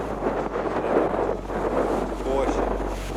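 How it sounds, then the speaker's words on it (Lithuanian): Strong wind buffets the microphone on a sandy road during a bike trip from Kiel toward Kelmė, a loud continuous roaring rumble with gusty swells and a faint voice beneath. "Va toks va vėjas."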